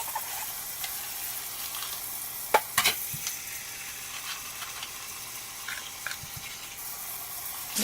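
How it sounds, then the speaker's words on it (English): Borax and washing soda are stirred with water into a paste for homemade laundry soap, making a steady wet, gritty swishing with a few sharper knocks of the spoon against the container. "you'll hear as you add more and more water, the grittiness kind of from the borax and the washing soda kind of dissolves"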